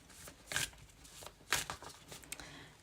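Tarot cards being shuffled by hand, two brisk riffling bursts about a second apart with softer card rustles between them, close and fairly quiet.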